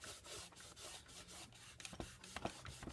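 Soft, steady rubbing and rasping of sanding dust being worked into the wooden deck planking of a model ship, with quiet repeated strokes and no speech.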